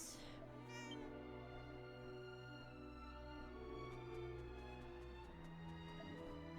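Cats meow in the video game Dragon Quest VII Reimagined, a couple of short mews near the start followed by a soft, rising cry, set over steady game music with no talking.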